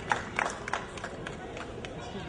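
Audience applause at the first Maracana tournament event in Montreal: a dense, steady patter of clapping at moderate distance, with a few sharper claps standing out early on.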